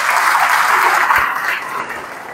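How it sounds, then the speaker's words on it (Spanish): Audience at a Christian education conference in Brooklyn, USA, gives a loud, sustained round of applause that fades slightly toward the end. "Le guardo un fuerte aplauso."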